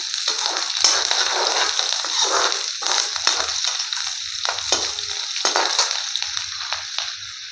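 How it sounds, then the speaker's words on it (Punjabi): Garlic and finely chopped green chillies fry in a hot pan, giving a steady, close sizzle broken up by scraping and stirring clatters throughout. "ਲਸਣ ਨੂੰ ਆਪਾਂ ਭੁੰਨ ਲਿਆਗਾ ਹੁਣ ਆਪਾਂ ਪਾ ਦਾਂਗੇ ਦੋ ਹਰੀਆਂ ਮਿਰਚਾਂ ਬਰੀਕ ਕੱਟੀਆਂ ਹੋਈਆਂ ਇਹਨਾਂ ਨੂੰ ਵੀ ਆਪਾਂ ਹੁਣ ਭੁੰਨ ਲਾਂਗੇ"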